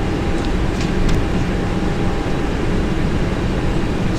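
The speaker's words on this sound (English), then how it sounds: "The throttle has gone to idle automatically whilst I descend." An A320 airliner's engines idle during descent in a flight simulator game, giving a steady, even broadband hum with no talk over it.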